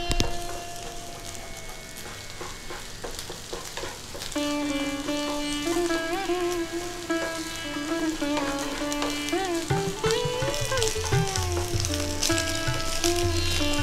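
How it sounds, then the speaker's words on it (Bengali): Beaten eggs frying in oil in a frying pan while being broken up, a steady sizzle and crackle running under loud tonal music. "ডিমগুলো শক্ত হওয়ার আগেই একটু ভেঙে নিচ্ছি, যাতে ঠিকঠাক সব টুকরোগুলো ভাজা হতে পারে"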